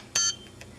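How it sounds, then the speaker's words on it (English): A single short electronic beep from an Elite-tek ET-9888 dog training collar, high and clear, followed by a faint soft click. "is the beep"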